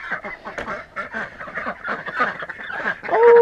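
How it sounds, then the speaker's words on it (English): A flock of ducks quacks and honks close by during morning farm chores, overlapping calls in a busy, continuous chatter. "Oh, silly ducks."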